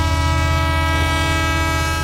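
A train rumbles past a closed railway crossing, a dense, loud, continuous roar with a sustained horn-like drone layered over it, close and unbroken for the whole stretch, with no voices.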